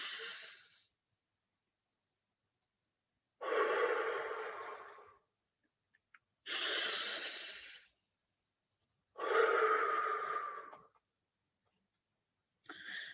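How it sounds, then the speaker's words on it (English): Four slow, deep breaths, each a long airy rush in through the nose and out through the mouth, separated by silent pauses, close and clear with no talking. "Sort of breathing in through the nose and out through the mouth"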